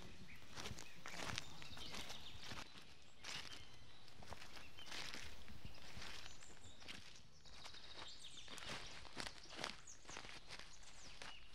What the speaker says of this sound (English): A lot of the film is Foley sounds, so there's footsteps and leaves and stuff like that